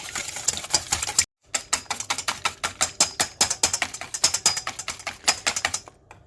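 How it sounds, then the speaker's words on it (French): Three eggs, two whole plus one extra yolk, whisked briskly in a bowl for carbonara, a rapid run of loud, close clicking strokes with one brief pause near the start. "Voilà, les œufs sont bien mélangés."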